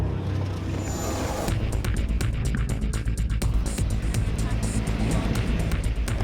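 A race car running timed laps on a course, a continuous loud engine roar with rapid pulsing texture, picking up in intensity partway through, with voices murmuring underneath.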